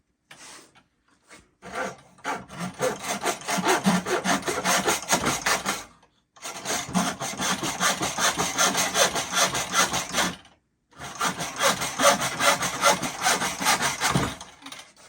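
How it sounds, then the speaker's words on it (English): A hand miter saw cuts through wood in three long runs of rhythmic back-and-forth rasping strokes, close and fairly loud, separated by brief pauses. "using just a miter saw, hand miter saw, just to show you can use anything really to cut this wood"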